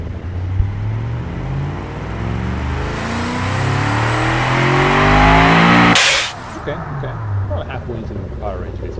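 Turbocharged car engine in the Automation game droning at steady revs, rising in pitch and intensity with a thin high whine over it, then cutting off abruptly near the end, followed by quieter engine idle.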